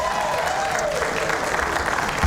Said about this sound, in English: I think they deserve a nice round of applause.